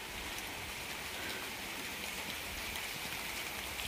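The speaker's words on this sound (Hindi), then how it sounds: "कितनी भयंकर बारिश हो रही है।" Heavy rain pours down in the hills near Udaipur, a dense, constant roaring hiss that stays loud and unbroken throughout, with no voices.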